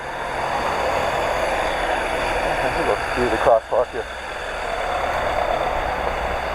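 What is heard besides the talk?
street traffic passing in a Sicilian town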